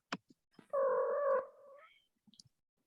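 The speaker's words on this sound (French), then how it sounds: "on a entendu le chat de Claudia" A domestic cat meows close to a microphone at home, one drawn-out tonal meow with a falling tail, preceded and followed by a few faint clicks and small noises.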